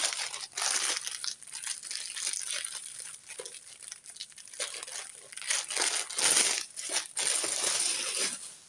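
Plastic crinkles and rustles continuously up close, crumpling sounds rising and falling in irregular bursts with no speech.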